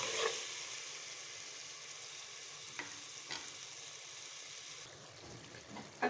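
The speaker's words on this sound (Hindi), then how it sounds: "अब इसको अच्छी तरह से भून लेंगे।" Turmeric, garam masala, dried coriander and salt fry steadily in a pan for ridge gourd and chana dal, a continuous sizzle with a few sharp stirring scrapes, close and unaccompanied by talk.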